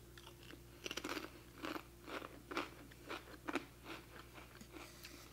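Crunchy snack being bitten and chewed during a stitching break, with a steady train of close, crisp crunches roughly every half second over a faint low hum, with no talking.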